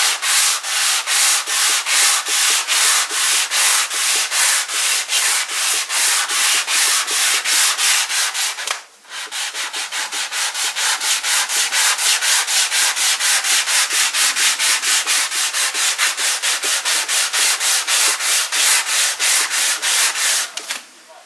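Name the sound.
light hand sanding of a guitar body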